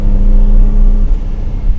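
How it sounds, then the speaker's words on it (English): A Datsun 280Z engine holds a steady loud, low drone while driving, then eases off slightly partway through, heard up close from inside the car with no talk over it. "you really gotta get the revs up though to get the power out of it"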